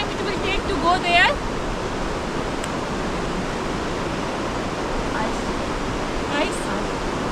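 A waterfall near the Alma Arasan hot springs in Almaty, Kazakhstan gives a steady, broad rushing roar, with a voice talking briefly over it near the start.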